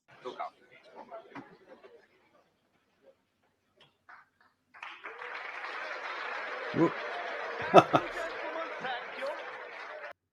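A group applauds in a war film scene set around a military operation, the clapping rising after a few seconds of quiet talk and continuing steadily at moderate distance, with a couple of brief sharper bursts and people chuckling.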